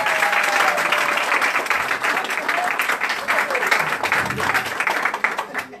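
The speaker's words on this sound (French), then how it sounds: "Applaudissez encore pour eux." Audience applause at a hairdressing school's diploma ceremony, sustained clapping from a crowd with a few voices and cheers mixed in, gradually thinning toward the end.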